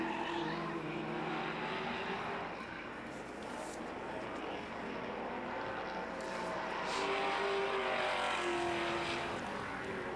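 Race cars at the 1998 Motorola Cup on the Montreal circuit make a steady, fairly distant engine roar with a few rising and falling tones as cars pass. It stays continuous and moderately loud under faint broadcast commentary.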